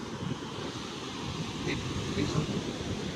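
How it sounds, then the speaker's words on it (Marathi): Sea waves washing onto Candolim beach in Goa, a steady, fairly soft surf wash mixed with wind noise on the microphone, with faint distant voices. "बघायला कसं पाणी येत आहे."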